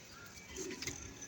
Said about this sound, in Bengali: ওই যে একটু কবুতর আছে